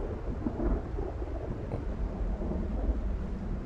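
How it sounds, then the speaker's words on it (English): Steady rain with low rolling thunder in the Project Zomboid video game, a continuous dense wash with deep rumbles swelling throughout, no voices. "Here we are, it's still raining."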